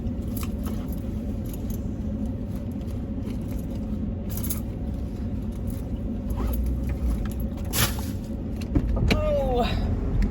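A car engine left idling at a gas pump on a hot day gives a steady low rumble throughout, with scattered clicks, rustles and handling noises and a brief squeak near the end.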